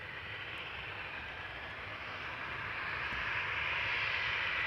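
A Boeing 737 jet at Amsterdam Schiphol Airport gives off a steady, broadband engine roar that slowly swells in loudness, heard from a distance across the airfield with no voices.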